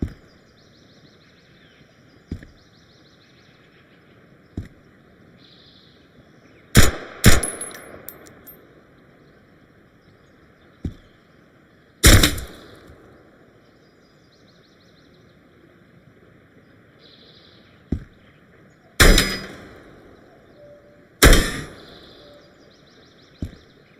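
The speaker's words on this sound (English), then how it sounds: "Now who's shooting at me?" Gunfire in the tactical survival shooter Road to Vostok, scattered single sharp shots, some near and loud, others distant and faint, spaced irregularly over a quiet humming background with no voices.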